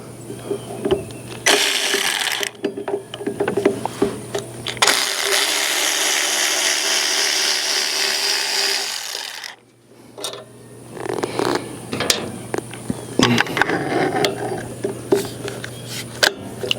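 Ratchet driving a T25 bit to loosen carburetor screws on a Snapper push mower with a Briggs and Stratton engine, a series of close mechanical clicking and rasping bursts with a sustained noisy stretch in the middle.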